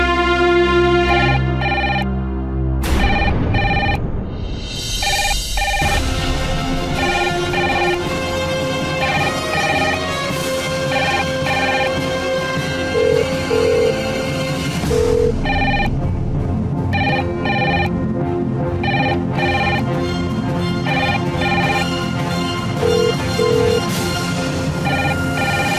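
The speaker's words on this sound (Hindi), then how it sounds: "खन्ना साहब का फोन, किसी कॉल का तो इंतजार था।" A telephone rings in a domestic drama scene, a repeating bell-like ring standing out over loud background music for most of the passage, with no talk.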